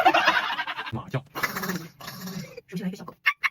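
A human voice imitates a small dog, with short yipping and whimpering bursts in quick succession, close and fairly loud, broken by brief pauses.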